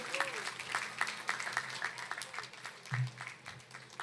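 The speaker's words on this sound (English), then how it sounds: "Let's give a round of applause for Loic Charles again." Audience applause at a national youth rally, a scattered, fairly faint patter of clapping from a crowd across a large hall, with some voices and background noise.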